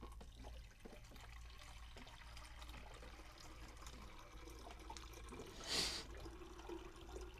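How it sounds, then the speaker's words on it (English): An office water cooler idles with a low steady hum, then gives one brief, louder gurgle of water about two-thirds of the way through. No one speaks. "do have a water cooler here, as was asked about. You'll hear it in a moment."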